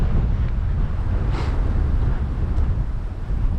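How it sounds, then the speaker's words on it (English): Strong wind belting up a harbour during a Port Hills hill walk, a continuous roaring rush buffeting the microphone, loud and steady throughout with no talk. "That wind is just belting up that harbour."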